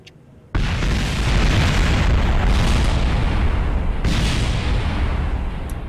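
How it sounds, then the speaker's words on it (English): A sudden loud explosive roar bursts in and continues as a sustained, rumbling blast with crackling surges, steady and intense throughout, from rocket engines in Kerbal Space Program during atmospheric entry over Eve. "explosions from the rocket engine"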